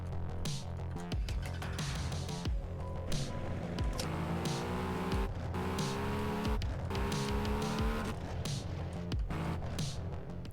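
A car engine in the game Ukraine GTA revs and roars through shifting gears, with rising and falling pitch and tire noise, loud and continuous with brief cuts between revs.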